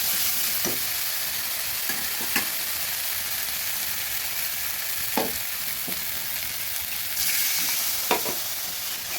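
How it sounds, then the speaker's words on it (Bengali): Baby banana curry with spices being stirred in a pan after water is added, a steady hiss under occasional spoon knocks against the pan's side, close and even throughout. "ভালোভাবে জল দিয়ে নেড়ে নিচ্ছি।"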